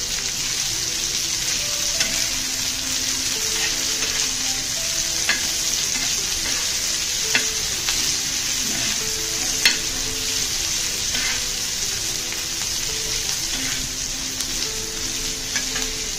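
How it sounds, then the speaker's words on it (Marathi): Onions with ginger-garlic paste and green chilli fry for spicy Kolhapuri misal, a loud continuous sizzle with frequent stirring scrapes running throughout. "थोडंसं मीठ घालून घ्या म्हणजे पटकन कांदा हा फ्राय होईल।"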